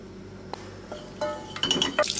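A pot is set down on the stove and a spoon adds butter and oil, making a few sharp metallic clinks and scrapes that grow busier toward the end, with no talk.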